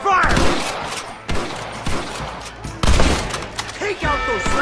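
Bursts of gunfire crack out in the Red Dead Redemption video game as a shootout opens, several loud volleys and a rattle of shots layered over music and voices shouting in the scene.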